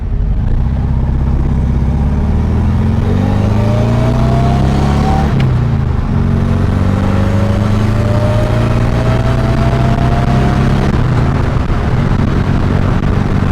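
A supercharged 1600cc VW Karmann Ghia engine with an AMR500 supercharger revs through the gears while driving on a rough road, a loud close drone that rises in pitch, drops at a shift, then climbs again.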